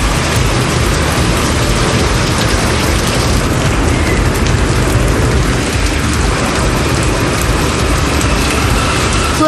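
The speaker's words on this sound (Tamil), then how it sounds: "ராமபுரத்தில் மழை பெய்தது." Steady, loud, dense hiss of rain falling during a storm in Ramapuram, a suburb of Chennai. The rain continues without pause throughout.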